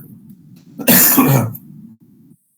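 A single close, harsh cough bursts out during a quiet classroom lecture on Vastu drafting, with a low steady background hum before and after it.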